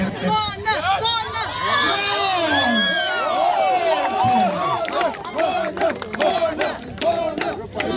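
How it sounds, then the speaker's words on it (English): Spectators at an arm wrestling match during a sports meet shout and cheer loudly, a dense mix of excited yells, whoops and babble rising and falling throughout. "Come on, team winner, we can shout better. Come on, we can cheer up better."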